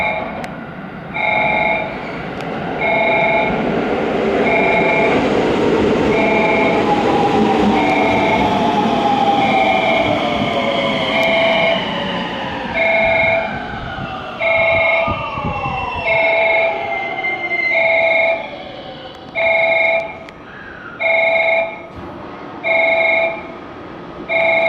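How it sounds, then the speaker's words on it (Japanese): An out-of-service JR West train rolls into platform 3 at Fukuchiyama Station, its motors whining in long descending tones beneath a loud rumble, while an evenly spaced electronic platform tone pulses over the arrival and keeps repeating as the train slows. "3番乗り場に回送電車が参ります。"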